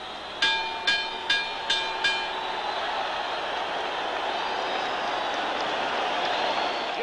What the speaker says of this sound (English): Now listen to the cheer now at the final bell.